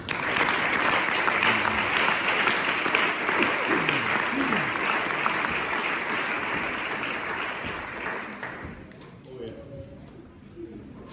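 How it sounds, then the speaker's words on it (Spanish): Sustained applause from a church congregation, loud and steady for several seconds before thinning out and fading near the end. "Fuerte el aplauso para el Señor."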